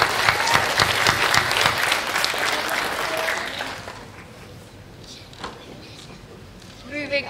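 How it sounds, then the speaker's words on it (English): A school awards audience bursts into applause for a winner, brisk clapping for about four seconds that tapers off, followed by a quieter stretch and a voice resuming speech. "Round of applause."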